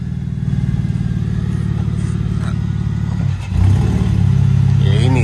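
BMW E46 drift car engine revving steadily and loudly through the gears, a continuous close rumble with a brief dip midway before climbing again.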